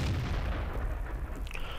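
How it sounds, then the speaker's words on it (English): In World of Tanks, an enemy artillery shell slams into a Type 61 tank, giving a loud deep boom that rumbles out and fades over a couple of seconds. "And there we get taken out by the enemy artillery."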